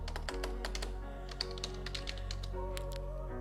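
Rapid keystrokes on a computer keyboard, entered at a Linux server command line, patter in quick uneven bursts with sharp clicks over a steady low hum.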